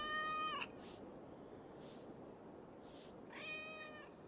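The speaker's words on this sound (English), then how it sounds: "I never thought the meow of cats could soothe my soul." A cat in the game Assassin's Creed Valhalla meows twice, one clear drawn-out call at the start and another near the end, soft and close over a quiet hiss with faint ticks between.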